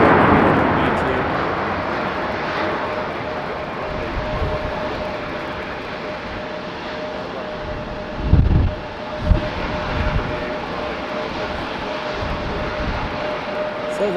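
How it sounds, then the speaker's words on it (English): A Delta Airbus A321neo airliner passes Raleigh-Durham International Airport as a broad, sustained jet roar, loud and steady, with a couple of low thumps partway through. "So there goes our Delta 2028, that one, the Neo, it's an A321 Neo."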